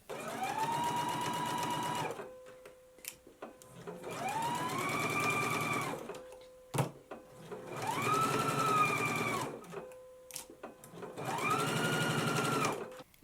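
A home sewing machine stitches a jumpsuit front facing seam: four long, loud whirring bursts, each about two seconds, separated by short pauses with faint clicks.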